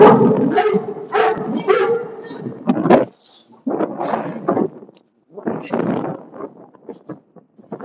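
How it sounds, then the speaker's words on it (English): A dog barks and yips in loud bursts while attacking a man under the LA River, with shouting voices mixed in and short pauses between the outbursts. "This guy getting attacked by this dog."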